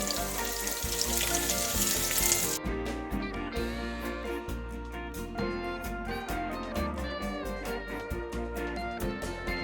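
Sweet potatoes for a Spanish tortilla fry in a pan. A dense sizzle is loud at first, then tonal, rhythmic background music largely covers it.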